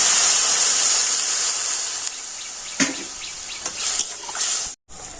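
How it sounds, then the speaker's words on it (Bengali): Water poured into a pot of mango chutney cooking with turmeric and salt, a bright sustained hissing splash that gradually eases, ending with a brief dropout and a faint continuing hiss. "দিয়ে দিচ্ছি জল।"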